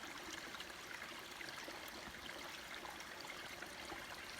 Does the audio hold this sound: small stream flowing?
yes